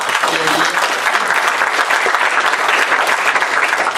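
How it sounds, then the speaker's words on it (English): Sustained applause from an audience at the BSidesAugusta 2014 security conference, dense and even clapping filling the whole stretch without letting up. "So, a round of applause for you."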